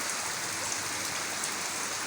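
Steady rain pours down during an afternoon storm with gusty wind in Chandra, Gazipur district, Bangladesh, a dense even hiss of drops on surfaces filling the whole short stretch without any voices.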